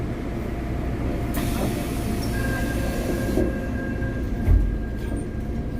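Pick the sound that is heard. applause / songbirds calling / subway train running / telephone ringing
subway train running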